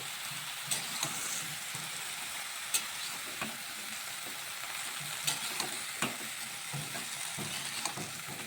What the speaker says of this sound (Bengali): একটু ভালোভাবে কষিয়ে নিচ্ছি। দেখুন আস্তে আস্তে মজে যাচ্ছে আর জল বের হওয়া যাচ্ছে।